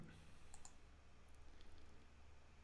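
A computer mouse gives a few quick, faint clicks in pairs during a text-editing session, close and quiet over a soft, steady room hiss with no talk.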